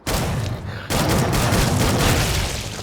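A sci-fi modular shotgun in Killing Floor 2 fires two loud, booming blasts close together, the second rolling into a sustained reverberant tail.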